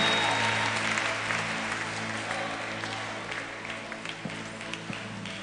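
A church congregation claps for Jesus in a continuous wash of hand clapping over a steady low hum, fairly even throughout and slowly easing, with no clear speech on top.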